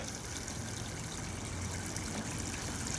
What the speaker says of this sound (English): Oh wow, you can see the waterfall.